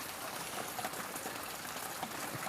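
Heavy rain pours steadily as a dense, even hiss with scattered droplet patter, close and constant throughout, with no voices.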